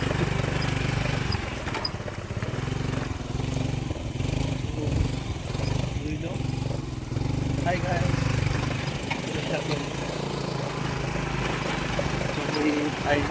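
A small Activa motor scooter engine hums steadily throughout as it rides toward a river, with people talking over the continuous drone.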